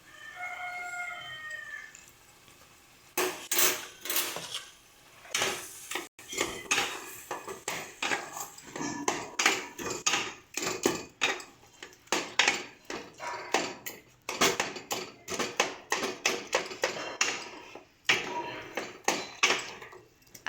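Mishali pickle being mixed into taro in a bowl, with repeated clattering scrapes and clinks of a utensil against the dish in an irregular rhythm, close and fairly loud, and a rooster crowing briefly in the background at the start.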